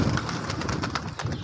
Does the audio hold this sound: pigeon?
yes